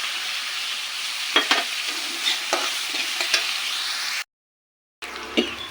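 Mustard seeds and cumin sputter and crackle in hot oil in a home kitchen, a steady sizzle broken by sharp spoon scrapes and pops, cut by a brief gap before the frying resumes.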